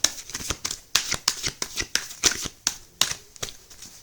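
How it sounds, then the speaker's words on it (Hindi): Tarot cards being shuffled by hand, a series of about a dozen sharp riffling snaps in a fairly regular rhythm, close and crisp, with no talking over them. "3 शफल्स करूँगी"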